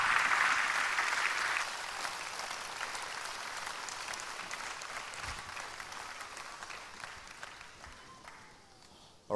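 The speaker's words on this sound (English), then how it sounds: "Another round of applause." A conference audience at the Vantage Forum 2017 applauds in a sustained wash of clapping, loudest at the start and then settling into a steady, slowly fading round that runs to the end.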